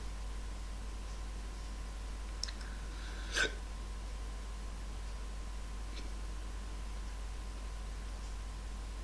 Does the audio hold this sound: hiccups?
yes